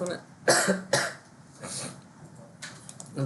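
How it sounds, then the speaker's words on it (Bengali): Two sharp coughs close together near the start, followed by fainter throaty coughing sounds, close to the microphone with no talking. "কাশি আসতেছে।"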